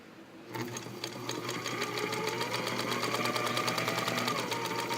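A Singer Featherweight all-metal sewing machine starts after a brief quiet moment and then stitches steadily and close up, its rapid, even mechanical chatter continuing loudly to the end.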